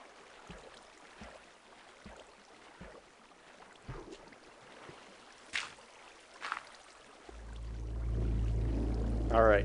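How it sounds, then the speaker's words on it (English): Waterfalls flowing in the Minecraft video game: a soft, continuous watery rush with faint clicks, swelling near the end into a louder, steady flowing roar. "Alright, got two different waterfalls."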